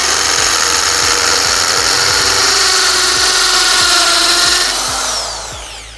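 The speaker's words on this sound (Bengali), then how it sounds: "তো তোমাদেরকে একটু ড্রিল করে দেখাচ্ছি কীরকম ড্রিল হয়।" A Black & Decker TB555 hammer drill bores a hole into a wall, running as one loud, continuous close-up whine with a rapid hammering pulse beneath it, then spinning down at the end.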